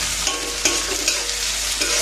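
Chopped tomatoes go into onions frying in a pan, making a loud, continuous close-up sizzle with a few faint stirring taps over it.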